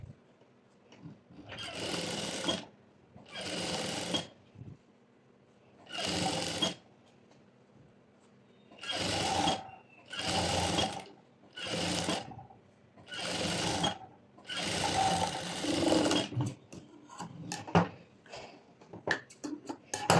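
Sewing machine stitching a sleeve's lining and main fabric together along the edge, running in about eight distinct bursts of two to three seconds each, separated by brief pauses, then shorter stop-start runs near the end; close and steady.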